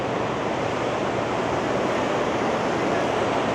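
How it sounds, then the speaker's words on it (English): Waterfalls at a bridge in Spokane, Washington, heard as a dense, unbroken rush of falling water, loud and steady throughout with no voices. "just going to check out the waterfalls right here at this bridge"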